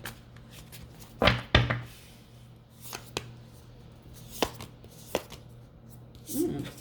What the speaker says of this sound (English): Let's pull some more cards and see what these cards have to say.